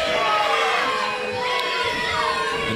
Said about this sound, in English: the crowd here in Southend letting El Greggso know what to think of him